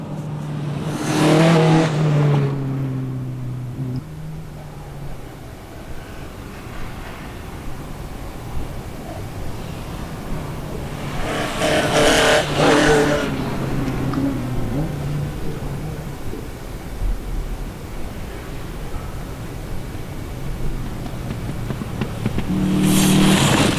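A Ford RS 2000 rally car racing on the Lombard Chepstow Rally Festival stage: engine revs rise and fall as it passes, with loud bursts near the start, middle and end and a steady motor drone between.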